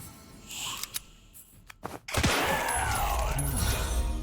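Pistol shots in the zombie mercenary squad game Dead Grid: a few sharp, separated cracks early on, then a louder burst followed by sustained game noise and effects.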